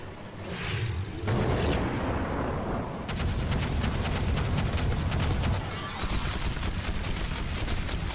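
Battle gunfire in the strategy game Divinity: Dragon Commander, a dense stream of rapid shots and booms running continuously with brief shifts in intensity.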